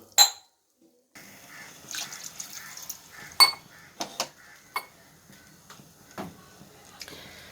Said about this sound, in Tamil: ஃபஸ்ட்டு பாகு வச்சுருக்கு தண்ணி சேர்த்துக்கலாம்